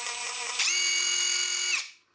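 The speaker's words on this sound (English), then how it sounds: "This impact wrench also has a variable speed trigger, which goes from 0 to 2750 revolutions per minute." A Kielder KWT-002 18V brushless half-inch drive impact wrench runs freely, a steady high whine that steps up in pitch briefly and then cuts off sharply with the electronic brake, close and alone.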